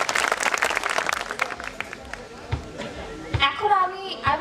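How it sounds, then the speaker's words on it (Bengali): Audience at an outdoor company picnic in Dhaka claps together in a short burst of applause that tapers off, with crowd chatter and a voice mixed in. "তার জন্য একটা করতালি দিয়ে দিই আমরা সবাই।"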